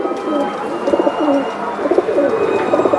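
Giribaz pigeons cooing close by, a pair offered at a bird sale, with soft repeated throaty coos overlapping in a steady murmur and a little faint background chatter.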